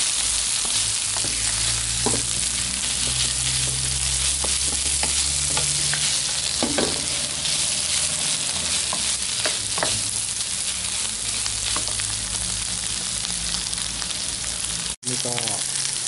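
Bamboo shoots stir-fried in a pan for a northern Thai spicy bamboo shoot salad, a steady close sizzle broken by scraping stirs and utensil clinks, running continuously until an abrupt cut near the end.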